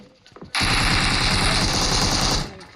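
Sustained automatic gunfire in the BGMI mobile battle royale game, a dense loud burst of rapid shots lasting about two seconds after a brief quiet lead-in.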